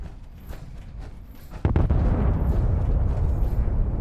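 A nuclear blast goes off in the video game Fallout 76, heard from far off as a sudden deep boom that settles into a sustained rumbling roar over the quiet background.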